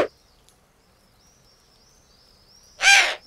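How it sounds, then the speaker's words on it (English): A golden eagle in a cold, rocky mountain habitat gives a single loud, harsh call near the end of an otherwise quiet stretch with a faint high background tone. "The golden eagle."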